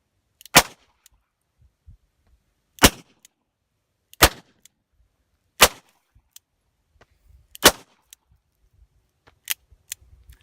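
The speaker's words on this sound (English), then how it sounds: "if you're the one firing the gun, you can tell the difference in feel" Live rounds and blanks fired from a gun into a berm at an outdoor range: about seven sharp, loud single reports spaced a second or two apart, each ringing out alone against near silence.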